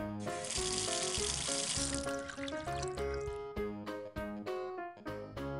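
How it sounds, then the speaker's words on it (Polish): Water runs from a household tap with a continuous splashing hiss beneath lively music, partly masked as the music carries on. "Kran."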